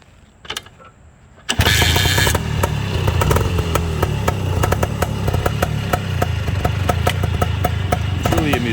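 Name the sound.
Bultaco 350 trials motorcycle engine running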